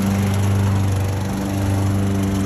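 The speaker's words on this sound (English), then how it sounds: "that's how you bump start a lawnmower" A self-propelled push lawn mower's small engine, bump-started by rolling it, runs loud and steady with a continuous buzzing drone close by, no voices.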